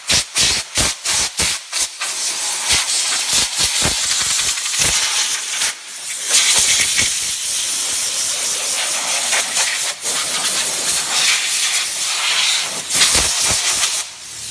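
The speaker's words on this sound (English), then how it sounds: "if you have access to compressed air," Compressed air blasts through a car's engine bay during detailing: several sharp, loud hissing bursts at first, then a steady, close, roaring hiss that holds with brief pauses and changes in strength.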